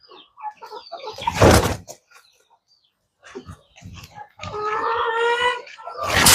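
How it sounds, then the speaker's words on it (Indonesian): A chicken on a small home farm squawks and clucks loudly and close by, with a sustained harmonic outburst between scattered knocks and rustling noises. "ini diganggu sama ayam guys tuh"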